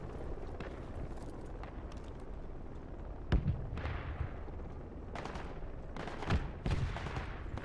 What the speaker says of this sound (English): I hear AK fire to the south, or to the north actually